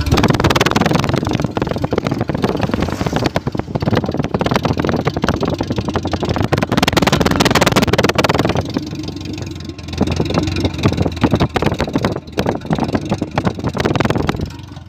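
Engine of a used 2001 Mitsubishi T-120 SS, a former minibus, running near its exhaust pipe, a loud continuous rough rumble with a slight dip in level partway through and some talk over it.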